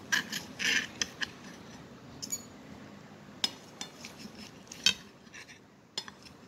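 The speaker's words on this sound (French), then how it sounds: "Je vais couper la saucisse en deux." A knife slicing a sausage in half, producing a few light scraping and clinking taps of metal against a plate, close and fairly quiet, with scattered brief clicks.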